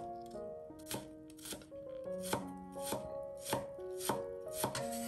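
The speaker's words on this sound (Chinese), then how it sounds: "将一小块生姜切成小碎末" A knife chops a small piece of ginger into fine bits on a board, giving about a dozen crisp, evenly spaced knocks close up over soft background music.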